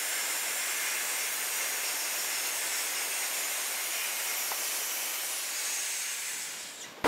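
AmphiBlast abrasive blaster nozzle spraying after its Thompson valve is opened a quarter turn, a loud, steady broadband hiss running unbroken for about seven seconds before cutting off abruptly.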